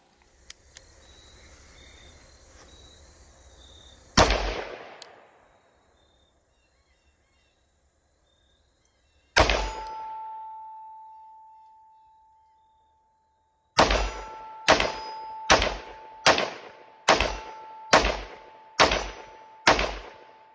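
Ten loud, sharp gunshots are fired over two chronographs, an Athlon Rangecraft and a Garmin Xero C1. Two shots come several seconds apart, then eight follow in quick rhythmic succession. A faint insect buzz and a sustained tone can be heard between them.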